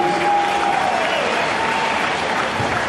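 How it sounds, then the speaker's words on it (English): A crowd at a hardcore wrestling match in Bluefield, West Virginia, applauds in a thick, steady roar of clapping that stays loud throughout, with a voice carrying faintly above it. "Give yourselves a round of applause, please."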